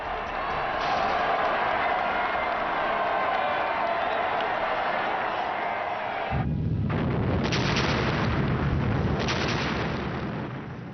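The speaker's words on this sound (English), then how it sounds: "Stalin ordered 12 124-gun salvos and a barrage of fireworks in Moscow's Red Square." Heavy artillery gun salvos fired in celebration over Moscow's Red Square, heard as a dense, rumbling roar of booms from old wartime footage, shifting midway to deeper, louder blasts.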